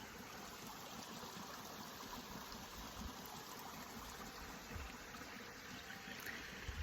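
Steady broadband rush of a river flowing through a forest in Brittany, continuous and close, with no voices.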